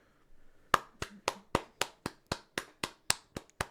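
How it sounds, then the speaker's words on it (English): A single person claps about eleven times in a slow, even rhythm, close and sharp against a quiet background, offering a round of applause during an MMA discussion. "Round of applause."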